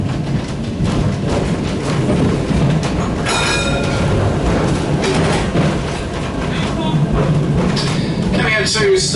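A Christchurch, New Zealand tram rolls along its rails with a loud, continuous rumble and clatter, with brief squeals of wheels near the end; voices are faintly mixed in.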